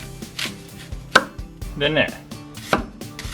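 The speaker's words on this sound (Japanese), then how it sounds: "これを全部みじん切りにしていきます" Knife chopping onion, carrot, tomato and celery on a board for chicken spice curry, a handful of sharp, irregular chops near the mic with brief talk at the start.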